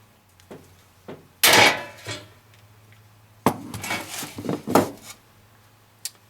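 Hand rivet gun squeezed to set a rivet joining two pieces of dryer vent sheet metal, giving a few sharp metallic clacks and crunching squeezes in two bursts, close and moderately loud.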